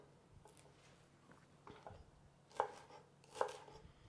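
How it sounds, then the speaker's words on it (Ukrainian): A knife chops dill on a board in a kitchen, with a few soft irregular cuts followed by two sharper, louder knocks, all quiet and close. "Чесник ми нарізали, відставляємо і будемо нарізати кріп."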